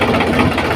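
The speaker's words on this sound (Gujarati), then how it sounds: "અને હવે આપણે આને રિવેસ મારીને મેળ દઈએ ટ્રેક્ટરને" A tractor engine idles steadily at night on a rice farm while a trolley is loaded, a continuous loud mid-to-low rumble with no pauses, heard close and alone.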